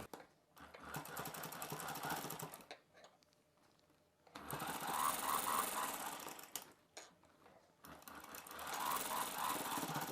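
A sewing machine stitches the shoulder seam of a boat neck dress in two steady, close runs of whirring and clatter, separated by a short quiet pause.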